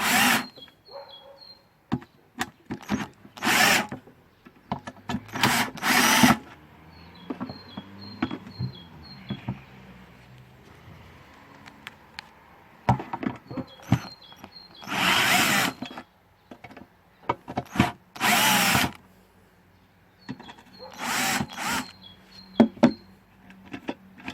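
A power drill unscrews the screws holding the carburetor on a Briggs & Stratton lawnmower engine, heard close up as a series of short, loud whirring bursts separated by quiet pauses.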